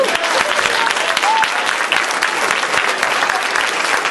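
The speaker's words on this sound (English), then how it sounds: "I'd like a round of applause for Jamie and the rest of the staff that put this on." A conference audience applauds the event staff at a family law conference in Ely, Nevada, dense sustained clapping filling the room throughout.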